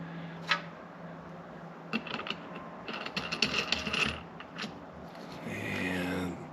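A bearing on a homemade tire carrier is tightened down, heard as quiet close metallic ratcheting clicks and clinks in short bursts, with a brief scrape and rustle of handling toward the end.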